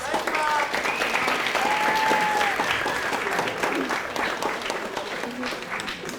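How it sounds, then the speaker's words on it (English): Sustained, full applause from a school ceremony audience in the Chester Upland School District, recognizing families; steady and near, with voices and occasional cheers woven through. "Let's give your families another round of applause."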